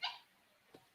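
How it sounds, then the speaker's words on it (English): A small puppy gives a short, high yip up close, then falls quiet apart from one faint low sound near the end. "I hear a little puppy barking?"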